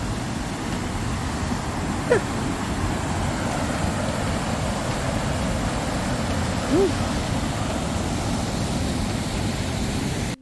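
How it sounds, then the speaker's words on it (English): The waterfall at Te Waihou Blue Springs gives a steady, broad rushing roar, constant and fairly close, with no one speaking over it. "There's a waterfall."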